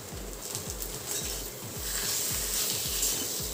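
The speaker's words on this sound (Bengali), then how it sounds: "আরও একবার নাড়াচাড়া করতে থাকবো এভাবেই" Aloo chop potato mixture with salt, turmeric and chopped coriander being stirred in a pan, a regular series of soft scraping strokes over a faint sizzle.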